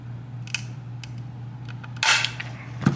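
Tin snips bite through and snap a piece off a plastic headlight housing, a few short sharp cracks with a louder break near the end over a steady low hum.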